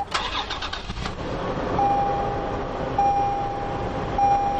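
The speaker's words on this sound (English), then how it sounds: "all you've got to do is put the key inside the ignition and twist to start" A 2020 Toyota 4Runner TRD Off-Road started with a key in the ignition: a short cranking whir that catches and settles into a steady idle, close and loud, with no voices.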